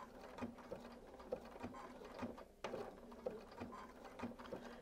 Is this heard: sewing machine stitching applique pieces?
yes